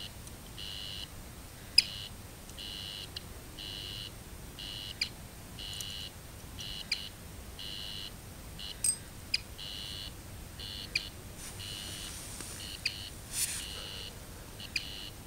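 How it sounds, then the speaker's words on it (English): A prototype fishing rod strike alarm beeps in a steady rhythm of repeated electronic tones, about twelve even pulses over outdoor background noise, with faint clicks scattered through. "The alarm's sounding."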